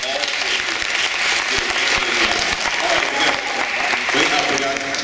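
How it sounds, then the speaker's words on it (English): Steady, full applause from a middle school audience, with a crowd clapping continuously at an even level from start to finish. "Again, another round of applause."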